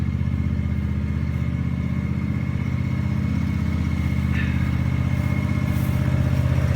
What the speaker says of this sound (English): chop down some of this brush, some of these weeds, mow them down